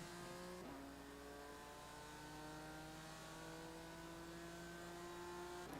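A BMW race car engine in the iRacing sim at the Nürburgring gives a steady, raspy, buzzing drone, held at high revs with a brief dip near the start.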